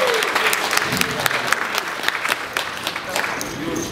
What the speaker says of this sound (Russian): Немножко аплодисменты.